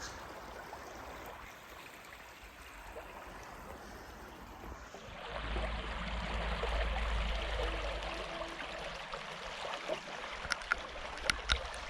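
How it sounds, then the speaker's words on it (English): Burbage Brook in the Peak District flowing over rocks, a steady broadband rush of water that grows louder midway as the crossing nears, with a few sharp clicks toward the end. "This is Burbage Brook."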